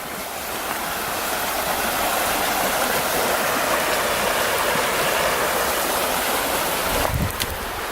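The Jeremy River runs through a secluded wooded spot near Grayville Falls, making a steady, full rush of flowing water that stays even throughout, with a brief rustling disturbance close by near the end.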